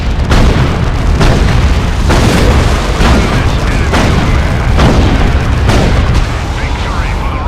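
Missile hits and explosions in Dawn of War 2: Chaos Rising, a loud, continuous barrage of booming blasts in repeated bursts about a second apart, dense and heavy throughout.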